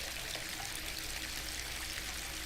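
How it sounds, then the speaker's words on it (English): Bathtub filling with water in the video game Disco Elysium, a steady broad hiss of pouring water running unbroken and fairly soft, with no voices. "The bathtub slowly fills with water."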